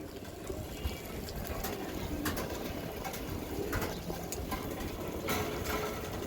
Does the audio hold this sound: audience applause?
no